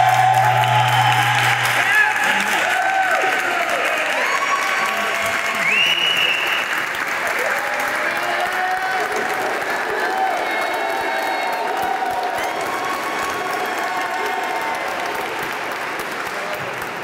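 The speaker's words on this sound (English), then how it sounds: "a round of applause. Please stand up." Loud, sustained applause breaks out at a Hispanic Heritage Month closing ceremony as a community honoree is asked to stand, with a large crowd clapping evenly, a few cheers and some chatter, slowly easing off over many seconds.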